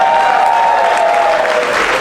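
Loud, dense audience applause at the opening of a Paws on Fire dance event fills the room without a break, with a faint steady tone running through it.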